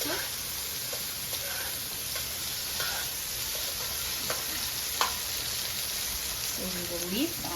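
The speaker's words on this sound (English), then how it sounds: "And then I'll let that fry. And I'll add the sardine to" Sardines frying in a pan for a Guyanese bangamary fish curry, giving a steady broadband sizzle with occasional stirring clinks and a brief low voice-like sound near the end.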